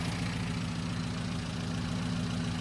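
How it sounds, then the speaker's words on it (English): A car engine idles on a rebuilt ACDodd Fast Road carburettor, a steady, even low hum close by and alone, holding a smooth, unbroken rhythm throughout. "the owner's just said to me, wow, that idles really well."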